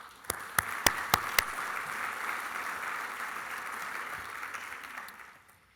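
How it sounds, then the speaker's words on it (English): Several sharp claps open a burst of conference audience applause that rolls on steadily, then fades out toward the end. "I'd like to give all of them a round of applause."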